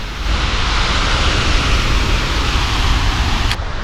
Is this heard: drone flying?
yes